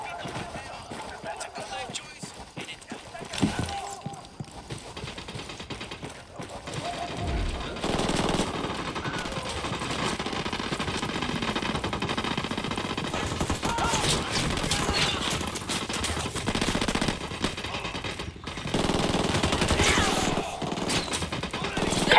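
Video game Ghost Recon: Wildlands gunfire, sustained bursts of rapid shots and clattering battle noise running through most of the stretch, loud and dense, with voices calling out now and then.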